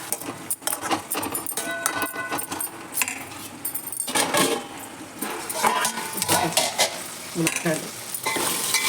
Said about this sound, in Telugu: మునక్కాయలు వేగినాయి